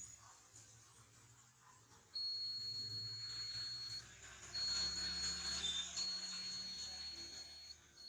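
A multimeter in continuity mode, its probes on a shorted mobile phone board, sounds a thin high-pitched beep. It comes in a sustained stretch and then a second, longer, broken tone, faint over a low background hiss.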